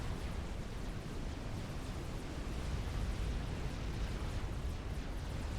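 Big explosions in a custom 4v4 video game match on the Selkie Isle map, heard as a dense, continuous deep rumble and roar that stays loud throughout, with no separate blasts standing out.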